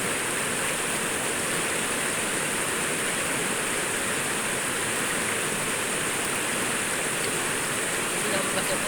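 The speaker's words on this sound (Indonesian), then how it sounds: "Saat kita di sungai, kita alangkah baiknya tinggal masukin saja kaki kita ke dalam sungai dan diusap-usap." A river flows steadily while feet are washed in it, a constant broadband rushing of water that stays loud and even throughout, with no clear splashes standing out.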